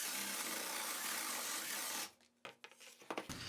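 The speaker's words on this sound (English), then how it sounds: "here I'm drilling a guide for my spade bit" A drill bores a guide hole for a spade bit steadily into wood for about two seconds, then stops, followed by a few scattered knocks and handling noises.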